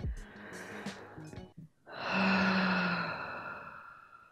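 Breathing during a guided relaxation exercise: a few short, uneven breaths and then one long, audible exhale like a sigh, close to the microphone.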